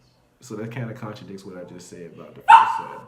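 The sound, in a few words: dog barking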